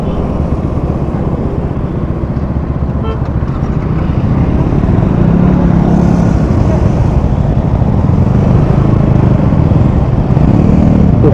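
A Yamaha MT-15 motorcycle rides along a highway with a loud, steady engine drone and wind roar that holds continuously from start to finish, close to the rider.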